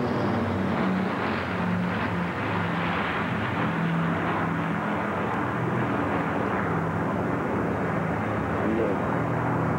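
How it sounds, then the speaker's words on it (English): Battle of Britain Memorial Flight aircraft pass over London from Buckingham Palace, a steady loud engine drone filling the whole stretch beneath a commentator's voice. "Battle of Britain Memorial Flight. From Buckingham Palace, off across London, back to their base"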